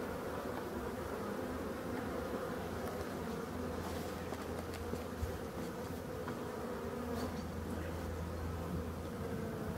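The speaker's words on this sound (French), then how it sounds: "Petit vol de propreté. Donc le baromètre est remonté. Du coup les abeilles sortent." A dense, steady buzz of many honeybees flying out of the hive, a continuous drone filling the air with no voices.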